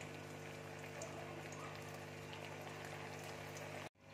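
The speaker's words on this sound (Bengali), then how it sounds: "এক এক করে তেলের মধ্যে ছেড়ে দেবো এবার দেখো তেলের মধ্যে আমি ছেড়ে দিচ্ছি" Sabudana tikkis fry over a medium-low flame in oil, giving a continuous soft, even bubbling hiss that runs steadily before cutting off abruptly near the end.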